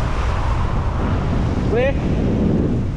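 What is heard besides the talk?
strong wind at a bridge construction site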